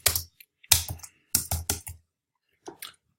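Typing on a computer keyboard, close and crisp: short clustered bursts of key clicks with brief pauses between them, in an otherwise quiet room.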